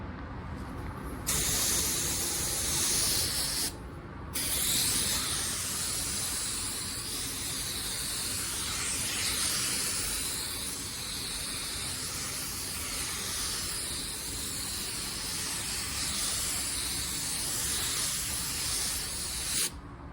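A spray gun lays clear coat onto a car in a continuous loud hiss that runs nearly unbroken for about twenty seconds, with two brief cutoffs early on as the trigger is released and pulled again.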